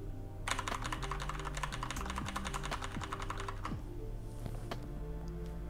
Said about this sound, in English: we'll start pressing F2 and delete